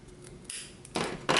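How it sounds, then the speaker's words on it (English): Scissors snip off excess bias tape fabric at a hem, giving a few short crisp cutting sounds close by, each louder than the last, in an otherwise quiet room. "So now that my bias tape is attached, I'm going to just cut this excess here."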